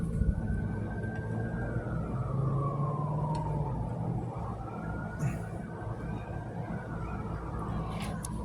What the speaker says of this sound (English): So you hear the sirens that you're hearing, right? You're hearing the sirens.